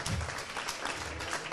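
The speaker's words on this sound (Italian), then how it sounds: "facciamo un applauso anche a Don Mario." A crowd applauds steadily and at close range for about a second and a half, the clapping dense and unbroken, at the outdoor opening ceremony of an expo in Italy's Alta Val Trebbia.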